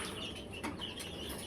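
Chickens, including a white naked-neck rooster and hens, give soft brief clucks, faint and close in a short burst with no voices.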